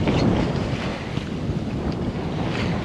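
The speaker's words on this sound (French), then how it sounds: "Et là le vent monte quand même à 18-19 nœuds." Wind buffeting a sailboat crossing the Gulf of Roses in an 18–19 knot breeze, a loud steady rushing roar over the microphone mixed with water wash against the hull, continuous with slight gusting swells.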